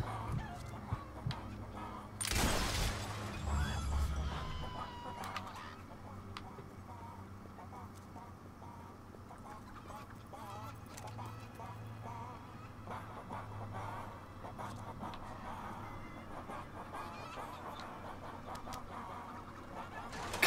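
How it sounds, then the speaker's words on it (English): Chickens clucking in the Fable 3 video game, a scattered run of fowl calls over steady game ambience and background music, with one loud burst early on. "The chickens are singing in tune."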